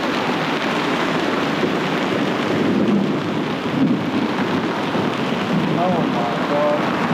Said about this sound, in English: It's this really heavy rain.